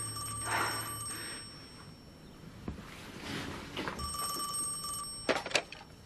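A telephone rings with two bursts of bright electronic trilling separated by a pause, close and fairly loud against a quiet room.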